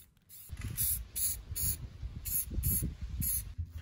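Black spray paint hissing from an aerosol can onto a garage drain cover in concrete, a string of about seven short close bursts in quick succession.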